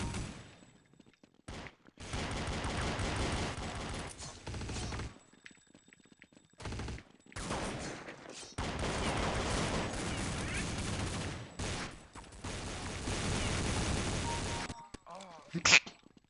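Bursts of gunfire from the video game Counter-Strike: Condition Zero, several long rapid volleys separated by short pauses, loud and close, ending with a sharp crack.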